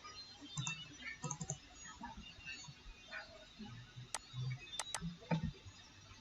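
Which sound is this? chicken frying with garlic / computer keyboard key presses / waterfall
computer keyboard key presses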